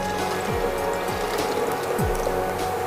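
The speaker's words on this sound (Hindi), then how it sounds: "इसको डालेंगे प्रेशर कुकर के अंदर" A mixture soaked overnight in about a litre of water is poured into a pressure cooker for a homemade dandruff shampoo, giving a steady, loud rushing pour with a few short descending squeaks repeating underneath.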